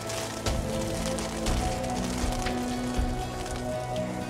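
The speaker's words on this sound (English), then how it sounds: "Soon hail came down on the garden." Hail falling on a garden, used as a sound effect in a fairy-tale story: a steady, dense patter of many small impacts, like heavy rain drumming on a surface, continuous and fairly loud throughout.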